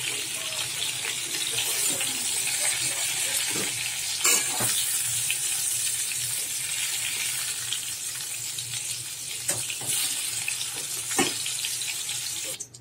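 Pointed gourd (potol) sizzles and fries in a pan for prawn curry, with steady stirring scrapes and occasional clinks of a utensil against the pan, close and moderately loud throughout.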